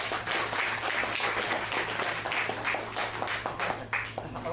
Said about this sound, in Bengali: আমি ওনাদেরকে একটা হাততালি দিয়ে অভিনন্দন জানাতে চাই